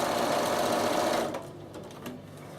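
A Bernina sewing machine stitching straight rows hums in a fast, steady mechanical whir up close, then stops, leaving faint clicks and handling noise.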